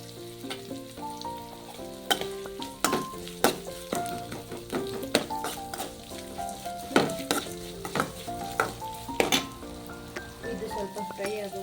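Shredded cabbage fries in a pan in a home kitchen, giving a steady soft sizzle broken by repeated sharp clinks and scrapes of a spoon stirring against the pan, with background tones underneath.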